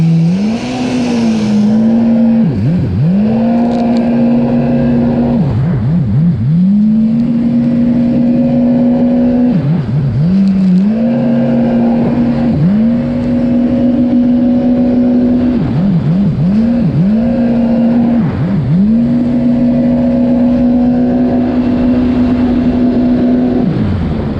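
A Yamaha GP1200R jet ski swapped to a supercharged 1800 engine drones loudly and steadily up close while riding, its pitch dipping and climbing again in repeated surges as it spins around on the water.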